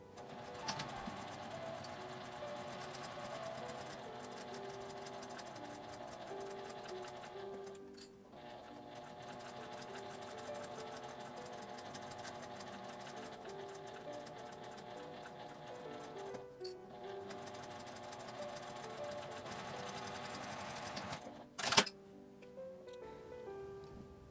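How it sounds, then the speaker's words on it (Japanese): A sewing machine stitches a 1 cm seam along a small flap-style mini fabric pouch, a steady continuous mechanical whir running close and even throughout, with brief pauses and a sharp click near the end. "表側を内側にして合わせて1センチの縫い代で縫います。"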